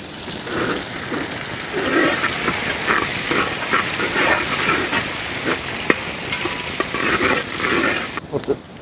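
Finely chopped ginger and garlic fry in a pan, giving a continuous close sizzle broken by stirring scrapes.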